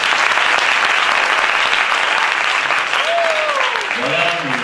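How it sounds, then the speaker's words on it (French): Loud, sustained applause from the audience at a bass guitar semi-final, filling the whole stretch steadily, with a brief whistle-like tone rising near the end. "J'aimerais demander au public de beaucoup applaudir Céline."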